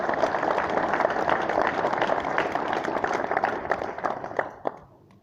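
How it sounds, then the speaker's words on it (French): A crowd applauds steadily at a Crédit Mutuel bank general meeting in Rioz, a dense wash of many hands that thins into scattered claps and fades out near the end. "Je pense que nous pouvons les applaudir chaleureusement."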